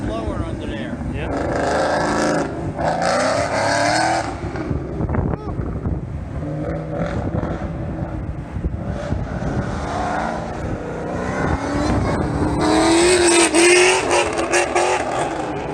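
A supercharged Chevrolet engine at a car show roars and revs repeatedly, rising and falling in loud surges, with people talking over it at times.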